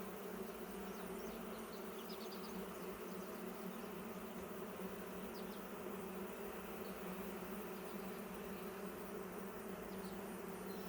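Honey bees in an open beehive hum in a dense, steady drone that stays loud and close without a break, with no voices over it.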